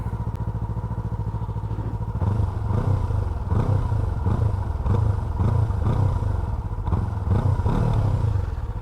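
A Kawasaki Ninja 250 (R25) motorcycle with stock exhaust idles with a steady thump, then the engine is revved in repeated pulses, loud and close, with some rattling clatter.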